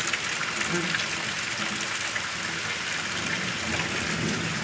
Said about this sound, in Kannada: ಜೋರು ಮಳೆ ಬರ್ತಿದೆ ಗೈಸ್ ನೋಡಿ